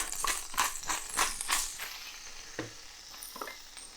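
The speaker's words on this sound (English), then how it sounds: "Just want to brown the butter off." Butter browns in a hot pan with pepper added, giving bursts of crackling sizzle and a few stirring scrapes that are loud at first and then settle into a quieter fry.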